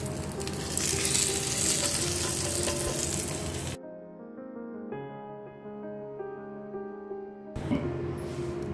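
A hot tadka of curry leaves, whole red chillies and deghi mirch in oil poured over Punjabi kadhi sizzles loudly and crackles, then drops away to a quieter simmer with faint clinks before the sizzle returns.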